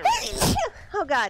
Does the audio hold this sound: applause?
no